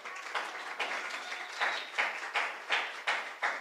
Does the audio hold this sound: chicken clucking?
no